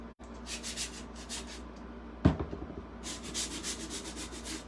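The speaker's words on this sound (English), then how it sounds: "just take a little piece of sandpaper to get the excess off" A small piece of sandpaper rubs along the edge of a chalk-painted wooden block, giving soft, quiet scratchy strokes in short bursts with a brief knock partway through.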